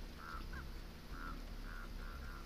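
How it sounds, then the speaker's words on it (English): Crows in the video game Dead by Daylight give a series of short, harsh, honking caws, about six spaced calls over a low steady background hum, faint and without voices. "That happens when you got crows following you."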